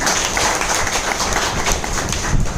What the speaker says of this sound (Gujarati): તમારા બધા માટે જોરદાર તાળી થઈ જાય.